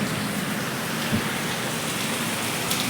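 A heavy downpour hisses steadily and evenly, with a brief dull knock partway through under the constant rain.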